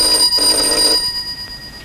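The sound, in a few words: telephone ringing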